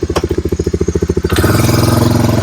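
A 1986 Honda Fourtrax 4x4 ATV engine runs loud and close. It starts with a steady, rhythmic chugging idle, then revs up into a smoother, continuous roar.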